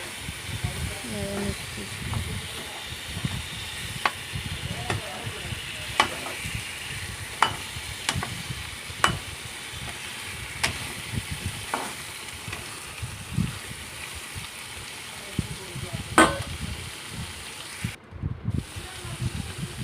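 Pointed gourd stirred and fried in a pan, with a faint background sizzle and a series of sharp scrapes and clacks from the spoon, while a voice talks over much of it.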